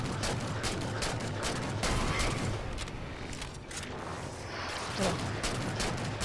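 Rapid gunfire from a weapon in Halo 4 Spartan Ops, loud and dense bursts of shots crowding the whole stretch, with someone shouting briefly over the shooting.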